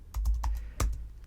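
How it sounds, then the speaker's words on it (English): Keystrokes on a computer keyboard while typing a search into Google, a handful of close, crisp clicks in two brief bursts, the second a single sharper stroke, with no talk. "You just need to type it and then hit enter key of your keyboard"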